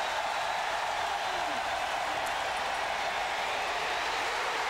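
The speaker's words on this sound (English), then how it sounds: "And listen to the crowd." A stadium crowd at a 1995 college football game between Arkansas and Mississippi State roars steadily, a dense, sustained wash of cheering that fills the whole stretch without a break.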